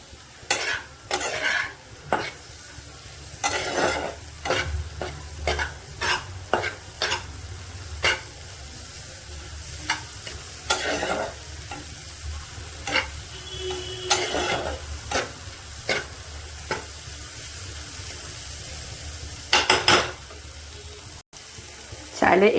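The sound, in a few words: stirring egg and tomato frying in a pan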